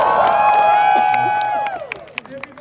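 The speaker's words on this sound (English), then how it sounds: "Everybody, can I get one more cheer just to bring the energy back" A street crowd on Edinburgh's Royal Mile cheers for a busker, a loud sustained burst of voices and whoops up close that cuts off sharply, leaving scattered claps and shouts.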